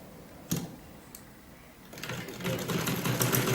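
A sewing machine stitching a salwar hem for the third pass, with a couple of short clicks early and then a steady, fast, close mechanical whir in the second half. Brief speech can be heard.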